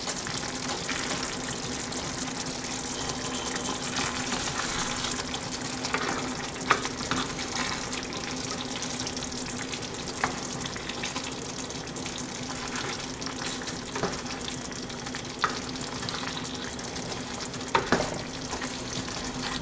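Egg and potato gravy bubbling in a pan over a low flame, a soft steady simmer and sizzle with occasional sharp clicks of a spoon stirring, no talk.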